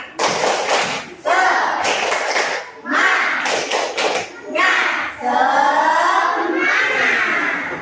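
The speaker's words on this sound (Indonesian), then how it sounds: "Mari kita lakukan tepuk semangat" A class of children performs a rhythmic spirit clap routine, with bursts of claps and thumps in short patterned groups alternating with shouted chanting voices, loud and close.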